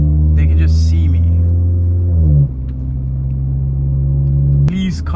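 Loud, steady car engine rumble through a decat downpipe exhaust, heard from inside the cabin on a UK drive, with a low drone that swells around two seconds, dips, then shifts pitch near the end.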